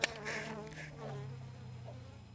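A busy apiary of twenty bee colonies in late April hums with a steady, close swarm of buzzing bees that carries on continuously, with no talking.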